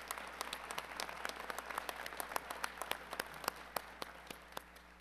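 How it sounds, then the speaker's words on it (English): Audience at a technical college fall commencement claps, with sharp individual claps standing out above a thinner crowd patter that gradually fades toward the end. "let's give her another round of applause"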